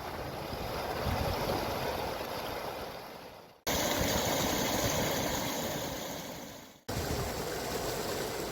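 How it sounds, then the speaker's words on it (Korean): Steady rushing water of the Osan Stream flows continuously at close range, a dense wash of sound broken by two abrupt cuts, with no voices. "자, 이제 오산천의 물소리 한번 들어보실래요?"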